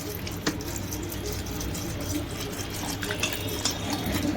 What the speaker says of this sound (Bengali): আর আমি এবার জল দিয়ে দিচ্ছি।